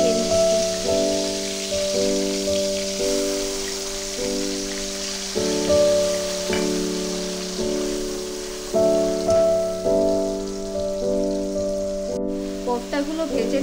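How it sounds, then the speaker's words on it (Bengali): Ground spice paste and tomatoes frying in oil in a pan for paan kofta curry, a steady close sizzle running beneath continuous background music. "তারপরে টমেটোটা দিয়ে মশলাটা দিয়ে বেশ ভালো করে কষিয়ে নিচ্ছি"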